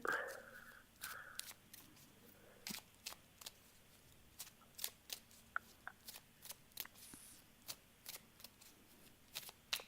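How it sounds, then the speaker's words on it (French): Playing cards being shuffled by hand during a fortune-telling reading, a series of quick crisp riffles and flicks spread across the span, fairly close and soft, with a brief voice near the start. "vous me dites stop pendant que je mélange les cartes"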